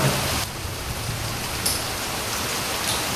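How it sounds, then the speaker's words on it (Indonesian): Heavy rain pours down at a campsite as a dense, even hiss of falling water, close and continuous throughout. "Tapi tetap masih hujan guys."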